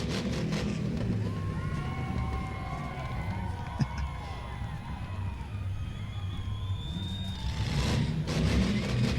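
Race cars in an enduro at Langley Speedway roar steadily with rising and falling engine whines as they pass, a sharp knock around midway, over a constant broad wash of track and crowd noise.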